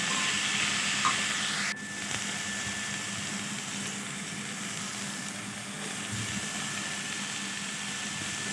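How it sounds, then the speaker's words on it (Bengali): Bitter gourd frying in a coconut and mustard paste, a steady close hiss of sizzling oil with a brief clank early on and faint stirring underneath. "ওই বাটাটা আমি এর মধ্যে দিয়ে করলাটাকে ভালো করে ভাজব এতে কী হবে নারকেলটাও এর মধ্যে ভাজা ভাজা হয়ে যাবে"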